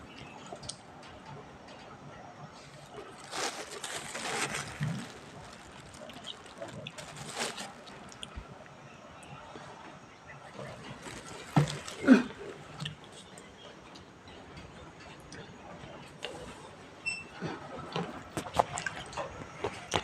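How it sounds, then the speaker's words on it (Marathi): Water runs into a pot in a home kitchen while homemade dal is being made, giving faint, intermittent splashes and drips with a few louder gushes and no talking. "चला आधी पाणी घेते भरून"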